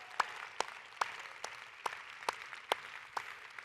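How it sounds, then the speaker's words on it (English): Sparse, evenly spaced claps, roughly one every half second, close and distinct, as a small number of hands applaud the winners at an occupational therapy awards ceremony, with quiet room tone between claps. "let's share a round of applause for all the AOTF and AOTA award winners"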